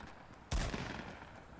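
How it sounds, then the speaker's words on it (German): A single sharp gunshot blast from a Fortnite match, faint and distant, with a brief tail trailing off afterward. "Und da höre ich auch direkt schon Schüsse."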